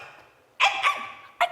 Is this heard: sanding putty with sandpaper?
no